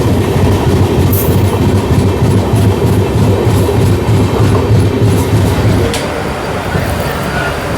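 The Amrit Bharat Express rolls along the rails on its run toward Ghaziabad, with a loud, constant rumble and rhythmic wheel clatter heard from inside the moving train, easing slightly near the end.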